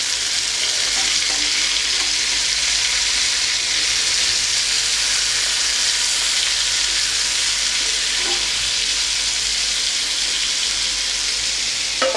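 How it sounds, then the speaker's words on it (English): Chicken legs pan-fry in oil with a dense, constant, close sizzle and crackle that holds steady throughout, with no voices. "We'll fry it till it's nice and golden brown"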